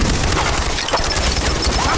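Barrel bombs explode in the Far Cry 4 video game, a dense, continuous roar of blasts and rumbling that stays loud throughout with no clear gaps between impacts.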